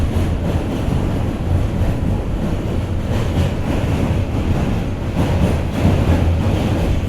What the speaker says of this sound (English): There's an R211 B train.